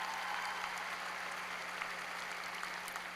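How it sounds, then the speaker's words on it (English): Graduation crowd at Lake Mary High School applauding, a soft, distant, continuous wash of clapping heard from far across a large venue, with no talk. "Please give yourself a round of applause for that."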